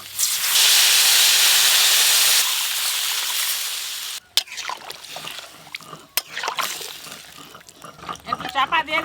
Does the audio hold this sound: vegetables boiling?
yes